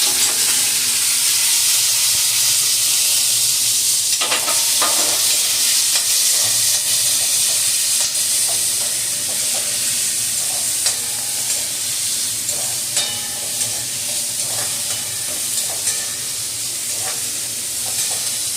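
Two medium onions, finely chopped, sauté with curry leaves in hot oil for brinjal thokku, producing a loud, continuous close-up sizzle with scattered clicks and scrapes from stirring.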